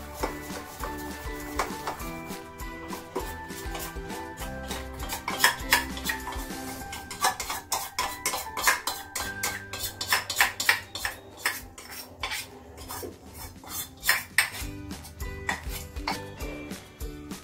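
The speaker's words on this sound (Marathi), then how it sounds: "ही बॅटर आपल्याला चांगली मिक्स करून घ्यायचं आहे" Dhokla batter being mixed with Eno in a vessel, brisk rhythmic whisking and spoon clinks against metal, close and continuous throughout.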